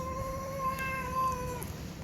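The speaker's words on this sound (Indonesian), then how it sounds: "Dia masih mengeong-ngeong" A white-and-brown striped cat meows in a drawn-out, clear tone, one long call of about two seconds, close and fairly loud with no talk over it.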